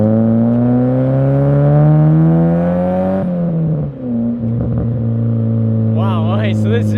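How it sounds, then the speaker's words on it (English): Mazda Miata NA with a Manzo exhaust revs loudly and steadily near the mic, engine tone climbing then dropping off with a few crackles, while a person talks briefly over the end. "Wow, okay, so this exhaust does sound pretty good."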